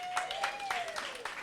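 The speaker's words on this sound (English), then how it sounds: "Let's give yourselves a round of applause" A rally crowd standing in the rain claps for itself, a brief burst of scattered applause with cheering voices and a sustained whistle running through it, fairly close and steady.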